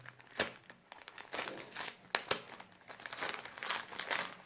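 A kraft paper pouch is slowly pulled open, giving irregular bursts of crisp crinkling and rustling with a couple of sharper crackles, close and fairly quiet, with no voices.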